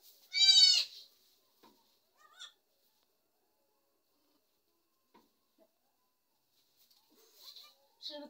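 A goat lets out one loud, close, wavering bleat at the start, followed by a long quiet stretch with faint scattered sounds and a short bleat-like call at the end.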